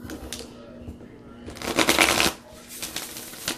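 A self-published animal-themed oracle card deck is riffle-shuffled at close range, two quick rippling bursts of cards fluttering together, with faint background talk.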